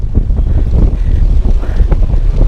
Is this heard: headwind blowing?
yes